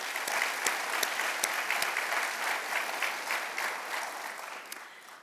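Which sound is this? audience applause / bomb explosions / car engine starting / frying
audience applause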